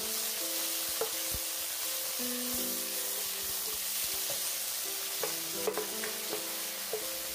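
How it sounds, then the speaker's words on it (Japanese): Water spinach stems stir-fried over high heat with garlic sizzle steadily in a wok, with a continuous hiss broken by occasional light clinks and scrapes of the spatula. "空心菜の茎の部分を先に入れて強火で炒めます"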